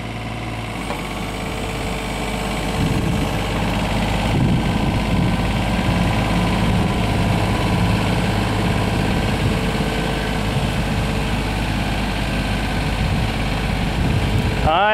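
Boat motors running in reverse give a continuous loud, rumbling engine drone with throttle vibration throughout, heard up close with no clear talking.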